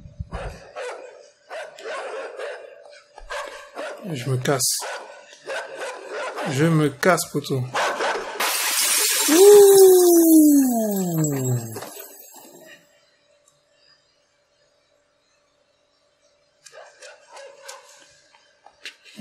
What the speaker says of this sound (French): Mais non, il y a le chien encore.